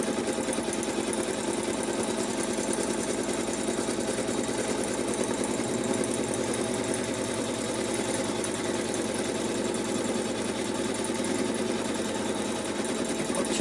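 A sewing machine stitches steadily through a fabric bag with a Dalmatian print, its continuous mechanical whir loud and close, with a slight shift in pitch about midway through and no talking.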